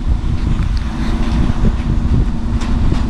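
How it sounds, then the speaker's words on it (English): Steady wind gusts buffet the microphone outdoors at a concrete pour site, a continuous low rumble filling the short stretch with no speech. "Ooh, the wind's blowing."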